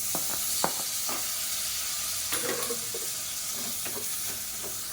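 Tomato and masala stir-fry in hot oil for carrot biryani, with a steady close sizzle and the intermittent scrape and tap of a spoon stirring the pan.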